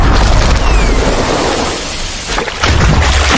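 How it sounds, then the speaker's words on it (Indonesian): A cannon fired from a ship in a harbour battle in the animated film Kung Fu Panda 2 makes a loud, sustained roaring blast with a rumbling low end that briefly dips and then surges again. "ia pun memutuskan untuk menembakkan meriamnya"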